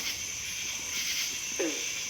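One short, low croaking frog call at night rises out of a steady chorus of chirping insects in a forest.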